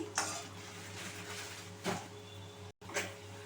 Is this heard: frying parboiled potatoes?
yes